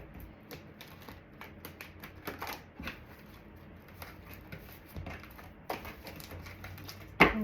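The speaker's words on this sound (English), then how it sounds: "these cards are really hard to shuffle" Crisp, irregular riffling and clicking of tarot cards being shuffled by hand, with small taps and slaps, close and fairly quiet.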